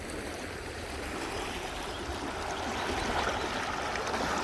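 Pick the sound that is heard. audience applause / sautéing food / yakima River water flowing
yakima River water flowing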